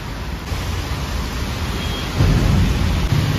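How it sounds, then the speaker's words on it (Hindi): Heavy rain pours down on a Himachal Pradesh road in a dense, loud hiss, swelling stronger partway through, with a low rumble beneath and no voices. "बारिश देखो अभी कितनी ज़ोरदार स्टार्ट हो चुकी है"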